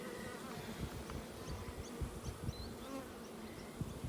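Disturbed honeybees buzzing around a Flow Hive during a honey harvest, a dense, continuous drone of many bees with individual insects flitting close by, quiet overall.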